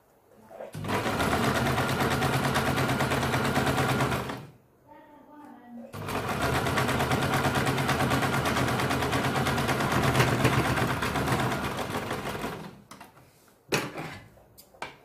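A sewing machine stitches along the edge of a blouse, running in two long, loud, steady bursts separated by a short pause, followed by a few clicks, with no speech over the stitching.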